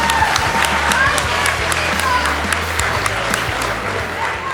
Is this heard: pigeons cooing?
no